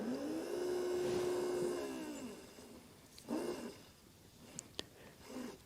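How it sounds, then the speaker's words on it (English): A tiny electric motor fitted with a smooth shaft spins up with a steady whine that slowly winds down as it is slowed by hand, followed by a couple of brief restarts and faint clicks. "It's just a little tiny motor."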